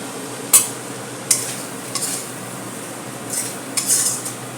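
Pointed gourd (potol) tossed with spices in a pan, a utensil clanking and scraping against the metal in several sharp strokes over a faint sizzle, close and alone.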